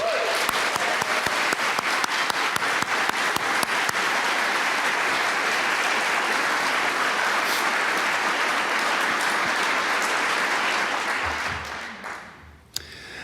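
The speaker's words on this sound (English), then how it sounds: "we should give him a big round of applause for" A conference audience applauds Jerry Smith at the closing remarks, a dense, steady clatter of many hands that holds for about eleven seconds and then quickly thins and fades away.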